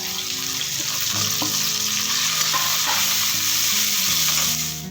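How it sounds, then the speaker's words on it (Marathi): Onion and curry leaves sizzle loudly in a hot pan, a constant bright crackle of frying with a few scraping stirs and light clinks, close and steady from start to finish with no voices. "कांदा, कढीपत्ता हे सर्व आपण आता हे एकाच वेळेस परतून घेणार"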